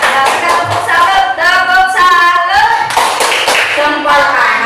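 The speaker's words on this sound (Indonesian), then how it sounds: "Kita tepuk tangan bersama." A group claps hands together in a classroom-style training session, a dense burst of applause running throughout under a loud voice talking over it.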